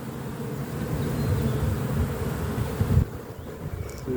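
Honeybees buzz over an opened beehive on a spring inspection, with brood emerging on the frames, giving a steady low droning hum close by that swells slightly and then thins out near the end.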